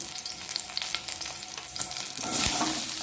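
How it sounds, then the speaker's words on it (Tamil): Green chilies, mustard seeds, cumin and dals frying in sesame oil, a dense crackling sizzle with spattering pops and stirring, close up, swelling louder near the end, no talk. "கூட கொஞ்சமாக சீரகம் கடுகு உளுத்தம்பருப்பு கடலைப்பருப்பு பொரிஞ்சதுமே கட் பண்ணி வச்சுருக்கிற பச்சை மிளகாய் சேர்த்துக்கிட்டு"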